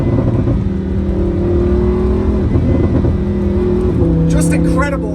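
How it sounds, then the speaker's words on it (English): A 2015 Lamborghini Huracan LP610-4 with its V10 in Corsa mode, exhaust valves opened, gives a steady loud engine drone with shifting tones and a burst of crackling burbles near the end, heard from inside the car. "If we go ahead and put the car down into Corsa mode, you can hear the exhaust valve changes and opens a little bit, and you can hear the burbles."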